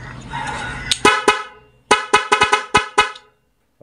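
A double contact car horn driven by a music module in mode 4 plays a quick melodic sequence of short, loud, close honks in an uneven rhythm, preceded by a brief sustained tone.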